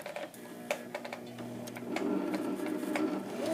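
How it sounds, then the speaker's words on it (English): A sewing machine runs a practice seam, whirring steadily up close with a short pause for the reverse stitch before the motor picks up again and continues the line. "I'm going to start stitching, count to 3, reverse stitch, and then continue that stitch all the way down to the end"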